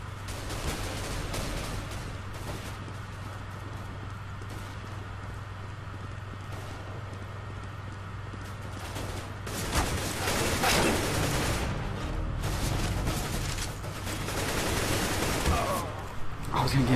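Rapid AK rifle bursts from the game CS:GO crackle through a steady mix of game ambience, growing denser and louder in the second half, with players talking over the action.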